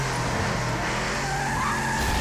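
A car skids with a loud, sustained tire screech in the opening of the video game Left 4 Dead 2, a continuous squeal over engine roar with no talking.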